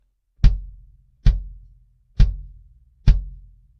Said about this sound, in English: Here's the sound of the kick flat, without any EQ or processing.